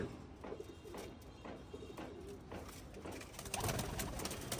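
Pigeons kept in a home loft coo softly in repeated, rolling phrases, with several birds overlapping at a low, steady level and no talking.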